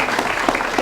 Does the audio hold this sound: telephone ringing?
no